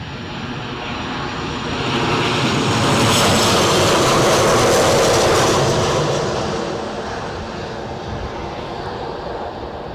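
A passenger jet approaches Newcastle International Airport, its engine roar swelling to a loud broad peak mid-clip and then easing, steady and continuous with no talk.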